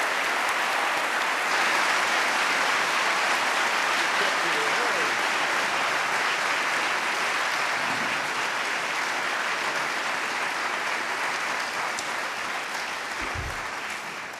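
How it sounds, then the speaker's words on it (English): Sustained, dense audience applause fills a hall as a guest walks to the podium, a steady roar of many hands clapping that holds even throughout and eases only slightly near the end. "So please join me in giving him a warm round of applause as he walks his way and makes his way to the podium."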